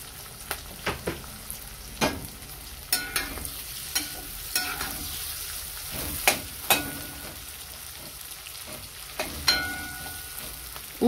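Onions for homemade plov fry in hot oil with a steady close sizzle, broken by sharp scrapes and taps of a spatula stirring them at irregular intervals, no voices.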